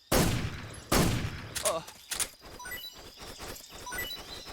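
Gunfire in Metal Gear Solid 3: two loud close shots a second apart, then a sharper crack and another shot, followed by a ragged scatter of fainter rapid pops fading off.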